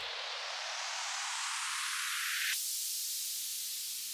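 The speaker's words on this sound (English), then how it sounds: "Then there are some basic uplifters like white noise bass," A white noise uplifter made for a stutter house track sweeps steadily upward in pitch, loud and alone, cutting off abruptly partway through before a fainter noise tail.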